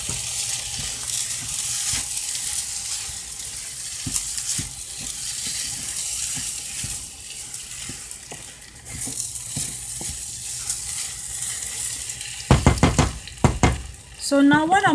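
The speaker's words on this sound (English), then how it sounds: "Give it a good stir again." Rice sizzles and crackles in a hot pan as it is stirred, with a steady frying hiss and occasional scraping clatter near the end.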